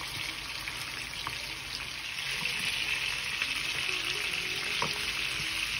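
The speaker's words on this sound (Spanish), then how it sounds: "Empezamos a sellar. Vamos a poner primero las piezas grandecitas." Oxtail pieces searing in a hot pan give a steady, loud sizzle and fry hiss that runs throughout, with small pops and spatters of fat, and nobody talks.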